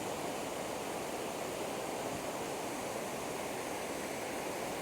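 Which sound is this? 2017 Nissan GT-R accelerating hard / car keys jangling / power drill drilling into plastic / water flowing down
water flowing down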